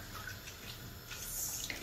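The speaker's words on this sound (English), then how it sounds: "I'm going to add just a little water to it." Water poured into a cooking pot of green stew (ayamase) with meat, a steady soft hiss and trickle of liquid lasting a couple of seconds, fairly quiet and without talk.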